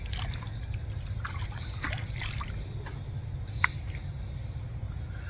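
Water trickles and splashes while a razor is rinsed during a wet shave, a steady low wash with faint sloshing and one brief clink near the end.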